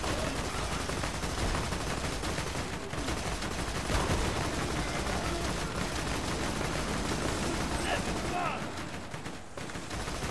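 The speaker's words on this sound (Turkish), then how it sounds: "Bak havada vurduk şeyleri." Dense gunfire from the video game Borderlands 2, a continuous loud barrage of overlapping shots and blasts with voices faintly underneath throughout.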